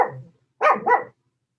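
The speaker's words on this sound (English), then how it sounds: "These little barks are celebrations, a shower of their love for you." A dog gives a short, close, loud bark followed by a quick double bark, clear against a silent background with no talk.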